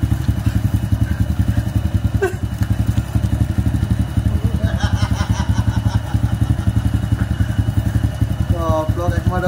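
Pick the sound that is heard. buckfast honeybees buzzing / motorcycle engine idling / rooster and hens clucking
motorcycle engine idling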